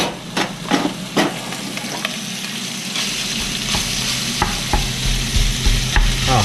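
Sausage fries loudly in a hot pan while a wooden spatula breaks it up, producing a dense, close sizzle punctuated by sharp, repeated scraping and tapping strokes.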